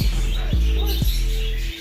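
Birds chirp in a quick, bright series of close calls over a steady low hum and background noise.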